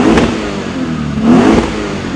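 A Lexus IS F V8 with an X-Force Varex valved exhaust revs twice in quick succession, a deep throaty roar rising and falling, close and loud with no talking.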